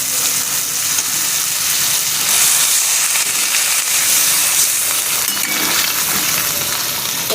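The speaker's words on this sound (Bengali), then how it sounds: "এবার আমি ঝোল দেব।" Broth poured into a pan of sizzling fried masala for a prawn ghugni, a loud continuous hiss and bubbling that swells as the liquid hits the hot spices.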